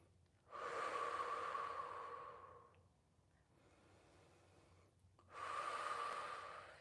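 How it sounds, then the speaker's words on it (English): Two long, loud exhaled breaths during a Pilates cool-down after a hard full-body workout, separated by a few seconds of quiet room tone, heard close and alone. "focusing on that breathing pattern"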